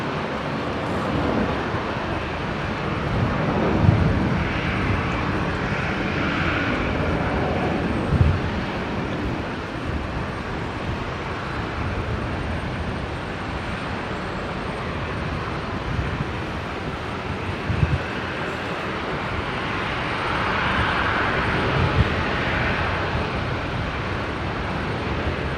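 Qantas jet airliner departing runway 19 left at Brisbane airport for Melbourne, a moderate, distant engine rumble that swells and fades across the stretch, with faint thumps and wind noise mixed in and no talking.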